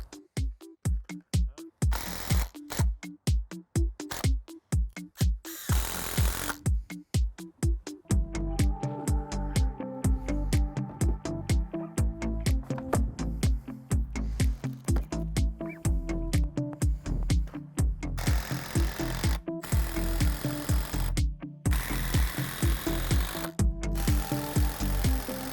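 A screw is driven through a wooden block into a firewood rack canopy, a power drill whirring in short pulsed bursts and then a long sustained loud run, close up with a mechanical rattle and no talking.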